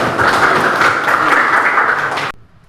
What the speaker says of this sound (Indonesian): Kita berikan tepuk tangan kepada Neza.